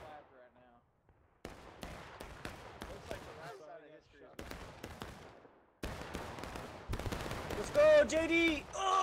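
Musket and rifle fire cracks across a Civil War battlefield in the game War of Rights, with bursts of scattered shots near and far while players talk over the shooting.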